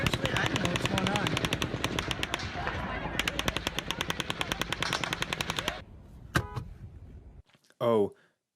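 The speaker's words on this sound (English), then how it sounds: "then longer 7-second round of gunfire" A long, rapid burst of machine-gun fire from the Las Vegas shooting, with evenly spaced shots, stopping abruptly, followed by a single crack and a brief buzzy whine.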